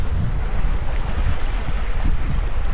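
Continuous rushing waves and gusting wind on a sailboat in the mid-Atlantic, loud and unbroken, with heavy low rumble from the wind on the microphone.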